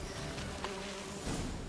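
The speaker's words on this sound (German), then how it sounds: "Warte mal, hier sind Bienen." A soft, continuous insect buzz of bees in The Witcher 3: Wild Hunt, steady and fairly faint under quiet game ambience, with no talk over it.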